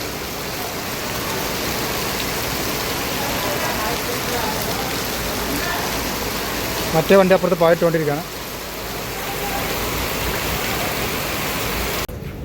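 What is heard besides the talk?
heavy rain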